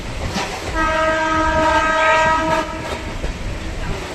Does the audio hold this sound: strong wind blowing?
no